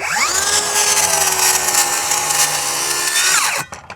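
A Flex circular saw, a lower-RPM model, crosscutting a board of wood: a loud, steady high-pitched whine under load, sustained for over three seconds before the blade spins down and the cut ends abruptly.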